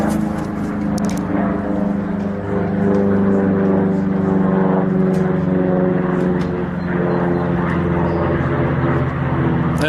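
A P-51 Mustang with a V12 Merlin engine flies close by, giving a loud, steady, sustained drone with a rich harmonic hum that carries through the whole stretch without a break.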